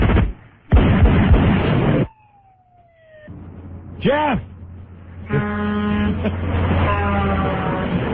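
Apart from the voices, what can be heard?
truck crashing through a house, radio sound effect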